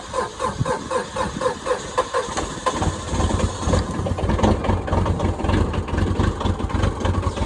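A Yanmar engine in a John Deere compact excavator starts cold on a chilly morning: about three seconds of rhythmic cranking pulses, then it catches and settles into a loud, close, rough running rumble.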